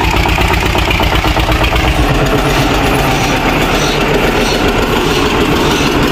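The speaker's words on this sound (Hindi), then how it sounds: "पहले खींची और फिर इसके बाद भाई ट्रैक्टर से धक्का लगा रहे हैं लकड़ी पर रख के" A tractor engine runs steadily and loudly while pushing heavy logs, a continuous low rumble with no talk.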